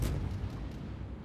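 Heavy naval guns fire armor-piercing shells from a Smolensk cruiser in World of Warships, a deep booming report at the start that rolls into a sustained low rumble over the short stretch, with no speech.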